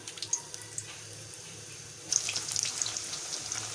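Puri dough is slipped into hot ghee, and after a quiet start a sudden crackling sizzle bursts up and keeps bubbling steadily, close and moderately loud.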